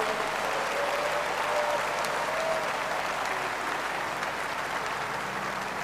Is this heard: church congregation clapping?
yes